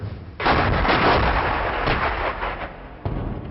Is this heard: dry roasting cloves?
no